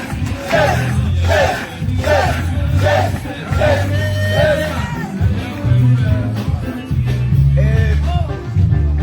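A church congregation in Côte d'Ivoire acclaims loudly, with rhythmic shouts and whoops rising over steady music and a crowd roar that swells and surges across the whole stretch.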